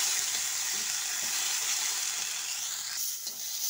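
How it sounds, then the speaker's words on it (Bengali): Steady, loud sizzling of yardlong beans frying in a hot wok, a dense continuous hiss with faint stirring scrapes, and no talking. "ভালো করে ভেজে নিচ্ছি আমি বটবটি কড়াইটাকে"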